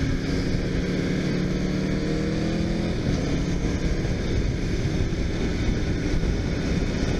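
A 2018 Aprilia RSV4 RF superbike upshifting with its auto blipper: a loud, steady engine drone with brief pitch shifts, buried under heavy, constant wind roar throughout.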